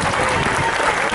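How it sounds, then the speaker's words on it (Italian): Dense, loud applause from the crowd at a regional Tuscan youth football festival for under-13 seven-a-side teams, a brief, unbroken wash of clapping. "Che farei anche un applauso a questa società."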